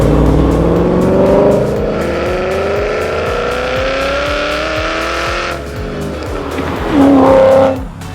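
A 2016 Camaro SS fitted with an XForce exhaust system drives hard on a race track, its V8 engine roaring loudly and rising and falling through the gears, with tire squeal and a sharp surge near the end.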